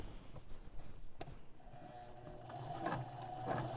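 Sewing machine top stitching a custom smock apron, a soft mechanical whir that starts up partway through and runs steadily, close and fairly quiet, with no one speaking.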